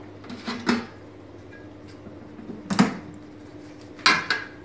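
An air fryer basket is pulled out by its locking handle, giving three separate close clunks and rattles of metal and plastic with quiet pauses between them.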